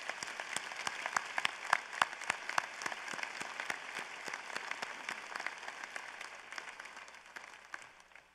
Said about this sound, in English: Please join me in a round of applause and appreciation as we wish them well.